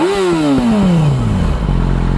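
A Yamaha R6 sport bike fitted with an MIV aftermarket silencer revs up and then drops away, its pitch sliding down steadily with crackling pops as the revs fall to a throaty idle, loud and close.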